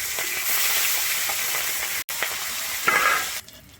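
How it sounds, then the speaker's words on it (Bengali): Tangra fish frying in hot oil in a pan, a loud, continuous close sizzle with brief stirring knocks near the end, no talking. "আমি একইভাবে বাদবাকি মাছগুলোকে ভেজে নিচ্ছি"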